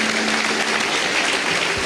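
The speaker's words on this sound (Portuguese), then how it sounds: "Você pode aplaudir Jesus?" A church congregation applauds in a dense, steady wash of clapping for under two seconds, fairly loud and unbroken, with no voices standing out.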